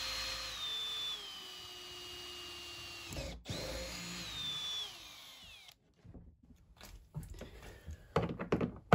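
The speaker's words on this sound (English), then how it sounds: "so I just need to drill this hole out." A power drill bores a hole through a van's water tank for an air vent, whining steadily for several seconds and pausing once, then giving way to scattered knocks and handling clatter.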